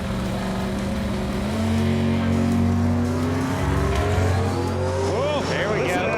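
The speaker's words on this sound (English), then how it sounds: "Oh, look at them tires smoking" A drag racing car launches down the strip with its tires spinning and smoking, a loud engine roar climbing in pitch over several seconds with a squealing, rising whine near the end.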